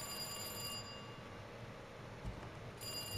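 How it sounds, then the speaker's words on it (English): A telephone rings inside the Resident Evil 2 game, a faint, steady electronic tone sitting low under a quiet ambient hum, with no voices. "That phone's gonna call me"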